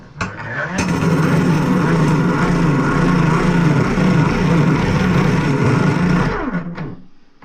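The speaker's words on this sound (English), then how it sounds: "I love improvising with my old hand grinder." An old hand grinder shaves down a Traxxas UDR part, a loud steady whir that spins up, holds for about six seconds alone, then winds down and stops.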